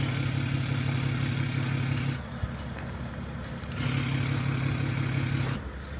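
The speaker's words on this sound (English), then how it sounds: "I'm going to get a little rev for you." A straight-piped BMW M57 diesel engine in a Rolls-Royce Phantom idles with a deep, throaty exhaust drone that drops to a quieter idle, then swells again with a rev before settling, heard up close with no talking.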